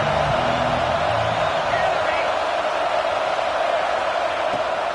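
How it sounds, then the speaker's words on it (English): A home crowd at a football game roars in a steady, dense wash of cheering that fills the whole stretch, with a commentator's voice faintly underneath. "how nice is it to have the home crowd going absolutely bananas?"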